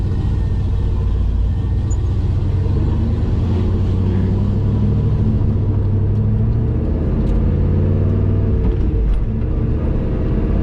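A big-turbo LS6 V8 Volvo sleeper pulls away, its engine giving a deep, steady rumble with rising tones as it accelerates through the gears, heard from inside the car without talk.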